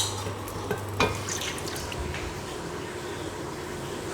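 Chickpea curry being stirred and roasted in a pot over high heat, with a steady frying hiss and a few clear scraping clinks of a spoon against the pot near the start.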